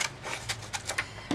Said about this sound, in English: Now, the 4 pages I'm ripping out